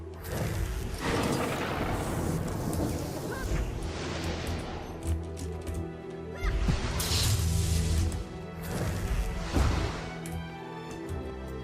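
Lightning hammer skill effects from Guild Wars 2 crash and boom in repeated heavy bursts, several thunderous electric impacts at uneven intervals with crackling tails, loud and without talk.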